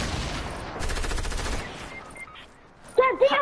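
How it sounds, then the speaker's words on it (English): Rapid automatic gunfire rattles in a Fortnite match, a dense burst of shots for about a second, then quieter game sounds and a brief voice at the end. "Oh shoot, we're getting shot at"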